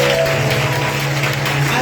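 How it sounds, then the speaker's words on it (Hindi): Congregation clapping at a Christian revival worship meeting in Jhelum, a dense, steady wash of applause from many hands over a sustained musical hum, loud and continuous throughout. "मैं चाहता हूं खुदा के बदले के लिए ताली बजाया जाता"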